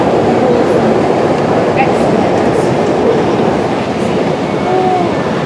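A London train from Shenfield rumbles into the station with a loud continuous roar and wheel noise, joined by faint high squeals and murmuring voices in the background.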